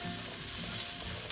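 Onions, ground spices and salt fry together in oil for a minced-meat sauce. The sizzle is close, steady and continuous, with no voices.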